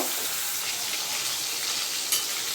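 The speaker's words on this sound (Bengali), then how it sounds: "মাছগুলোকে ভেজে নেব।" Bata fish frying in hot oil in a wok, a loud, dense, continuous sizzle with crackles and one brief sharper spatter near the end.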